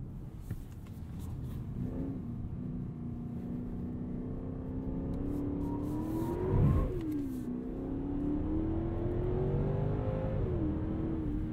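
A 2020 Genesis G90 sedan accelerates hard under a steady, rising engine note, with a clear gear shift near redline midway and the revs climbing again afterward, heard from inside the cabin with no talking.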